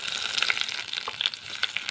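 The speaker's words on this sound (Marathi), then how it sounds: "या सगळ्याला छान फोडणी द्यायची आहे आणि ही फोडणी आपल्याला या चटणीवर टाकून घ्यायची आहे" A tempering of cumin and curry leaves sizzles in hot oil for a raw mango chutney, giving a faint, bright crackle with scattered small pops throughout.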